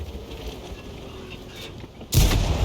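A tank cannon fires a single loud, close boom in a tank battle game, breaking abruptly through quieter engine rumble and leaving a short roar behind it.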